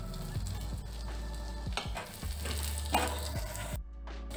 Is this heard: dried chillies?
yes